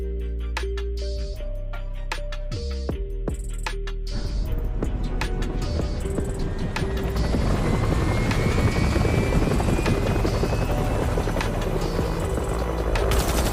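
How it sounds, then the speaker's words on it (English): A helicopter in a Korean zombie film scene thunders overhead, starting under musical tones and swelling into a loud, steady rotor roar mixed with gunfire-like bursts. "a helicopter begins shooting the horde down"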